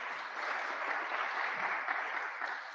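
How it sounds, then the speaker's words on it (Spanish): Audience applause at a panel discussion on communication and fake news, a soft, steady wash of many hands clapping, fairly distant and even in level throughout. "Si te parece, me quedo con un aplauso."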